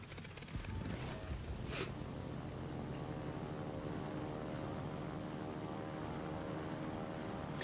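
Propeller planes launched from the Japanese Tier VI aircraft carrier Ryujo in World of Warships drone steadily and loudly, a continuous engine hum that holds unbroken throughout with no voices.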